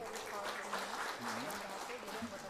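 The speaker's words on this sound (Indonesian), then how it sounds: "Jangan tepuk tangan dulu." Crowd applause breaking out in an audience during a speech, a steady wash of clapping under an overlapping voice.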